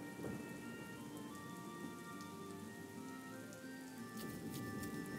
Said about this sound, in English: Also, it's now raining